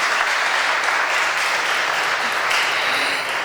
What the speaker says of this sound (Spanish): Aplauso para él también.